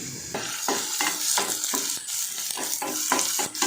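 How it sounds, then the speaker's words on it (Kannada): Finely chopped onion frying in a few spoons of oil for egg sambar, with rhythmic stirring strokes about every half second over a bright, crackling sizzle, close and fairly loud, no talking. "ಈರುಳ್ಳಿ ಎಣ್ಣೆಲಿ ಚೆನ್ನಾಗಿ ಫ್ರೈ ಆಗಿದೆ"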